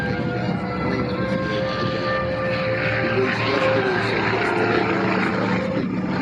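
A Corsair fighter with a 2,000-horsepower R-2800 radial piston engine takes off at an airshow, a loud sustained propeller roar with steady engine drone throughout, no talk.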